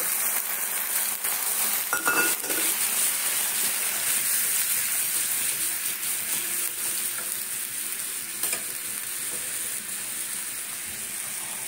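Boiled lentils go into hot oil with black mustard seeds and chili for a sour mango dal. A loud, continuous close sizzle of frying fills the whole stretch with occasional stirring scrapes.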